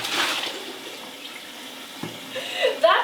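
A newly installed toilet flushes at the push of a button, a forceful rush of water that swells quickly and then drains with gurgling splashes toward the end, heard close by with no talk.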